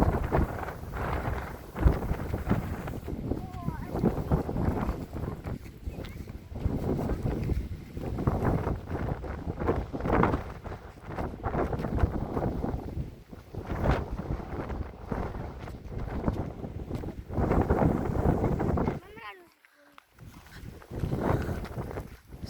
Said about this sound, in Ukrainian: Вітер сильний